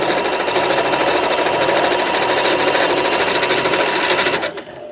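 A sewing machine stitches the gusset ends of a sectional sofa slipcover in a loud, steady, rapid mechanical run that stops abruptly at the end.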